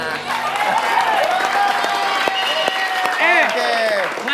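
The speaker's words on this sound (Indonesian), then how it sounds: "Tepuk tangan." A studio audience claps steadily and fairly loudly throughout, a continuous wash of applause with voices and laughter mixed in over it.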